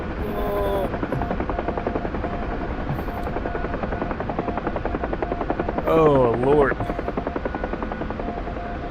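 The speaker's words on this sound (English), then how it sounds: "The trick is flying a helicopter." A helicopter in a video game gives a constant loud rotor buzz and whine over the whole stretch, with a person speaking briefly partway through.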